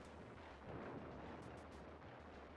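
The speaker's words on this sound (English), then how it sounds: "there's a big cannon fighting us" A big cannon firing in the SNES game Time Slip, heard as low, rumbling booms and bursts under a continuous game soundtrack, fairly faint with no talk over it.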